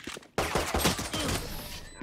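Rapid gunfire in the tactical shooter Valorant: a sudden loud burst of shots after a quiet start, continuing as a dense volley before tapering off.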